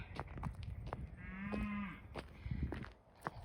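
Cows moo on a homestead farm, one clear drawn-out low call standing out near the middle over a busy outdoor background of rustling and small knocks.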